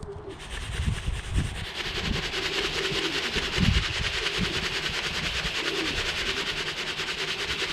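Pigeons on a loft roof cooing softly among a steady wash of outdoor background noise, with a few low, muffled thumps and shuffles nearby.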